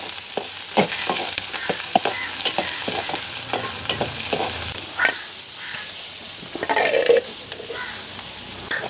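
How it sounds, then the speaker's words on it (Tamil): Green chilli, garlic and onion sautéed in oil for a Jaffna-style brinjal and chickpea curry. The stirring spoon scrapes in repeated close strokes over a steady sizzle, with a couple of louder spatters near the end. "இப்போ எல்லாத்தையும் சேர்த்து நல்லா கிளறிடுவா நல்லா எண்ணெயிலே அப்படியே வதங்கி வரட்டும்"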